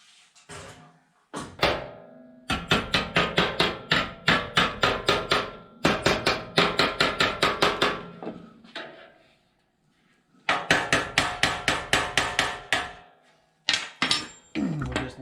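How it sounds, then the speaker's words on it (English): Rapid, loud hammer blows striking a metal Chevy truck seat frame during repair, in long rhythmic bursts, close by, with brief pauses between the runs of strikes. "Massage on that a little bit with the hammer to get that closed up the best we can."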